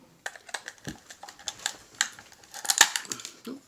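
Plastic casing of an LED power supply snaps and crackles as it is pried open, a close run of sharp clicks and cracks peaking in a loud burst near the end, with no talking.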